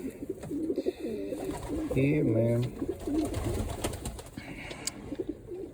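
Pigeons coo close by while a pigeon chick is held for leg banding, with a clear run of low throaty coos in the middle, overlapping people talking.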